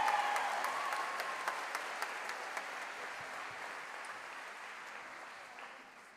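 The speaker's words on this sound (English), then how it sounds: "Let's give them one more round of applause for that song." Sustained applause from a graduation audience for a choir at a high school commencement, a dense wash of clapping that slowly thins out over several seconds, with no talking.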